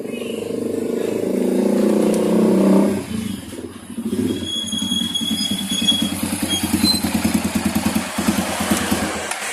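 A motorcycle engine runs, first a loud steady drone, then after a pause a rhythmic putt-putt idle pulsing under a man's speech.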